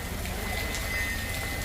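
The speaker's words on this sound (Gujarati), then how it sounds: "બપોરે 12 વાગ્યાથી વરસાદ ચાલુ છે." Heavy rain pours steadily over Simda village in Petlad taluka, where floodwater has filled the main roads and shops, a dense, even hiss of drops with no voices.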